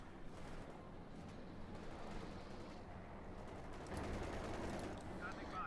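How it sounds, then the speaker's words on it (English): Machine gun and howitzer fire in Company of Heroes 2 make a continuous low crackle of gunfire and muffled booms, fairly quiet, with a voice talking over it. "Unknown Legend there using the machine gun and the Howitzer."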